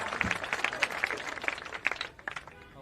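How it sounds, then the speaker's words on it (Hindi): Scattered applause from a crowd at a Jan Suraaj political rally in Bihar, with uneven claps rising and fading over roughly three seconds, somewhat distant and mixed with crowd noise and faint voices. "तालियां"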